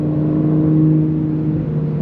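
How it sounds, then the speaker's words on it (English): V12 of a 2026 Aston Martin Vanquish droning steadily from the exhaust, a deep, even hum heard from inside the cabin, with no speech over it. "And you're hearing that glorious V12 out the back of the car."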